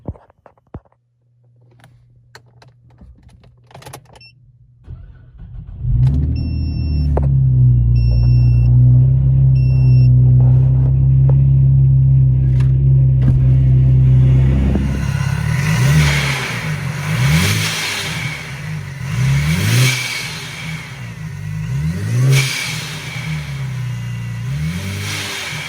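Supercharged 3.6L V6 in a Cadillac CTS cranks over and fires, settles into a steady loud idle, then is revved repeatedly in rhythmic surges with a faint whine, close and without talk.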